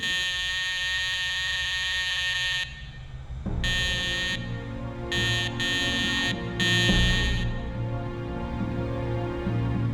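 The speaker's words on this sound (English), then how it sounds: "They have an alarm next to their bed, and they were using this alarm each 5 or 10 minutes." A patient call alarm beside an elderly patient's bed in a care ward buzzes loudly and steadily, a harsh electronic tone that cuts out briefly several times before resuming, with a low hum beneath.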